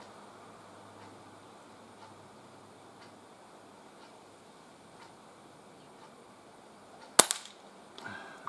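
A Sparrow spring pistol fires at a target outdoors: one sharp snapping shot rings out after a long quiet stretch, followed by a softer click, heard near and alone against faint breeze.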